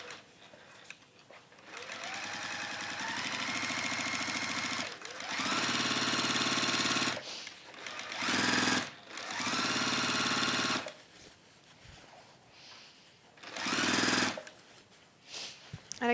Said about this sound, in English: I'm going to start now here and sew this down